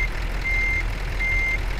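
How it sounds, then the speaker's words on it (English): A truck's reversing alarm in Euro Truck Simulator 2, two long steady beeps over a constant low engine hum, close and clear with no talking. "It's beeping like hell."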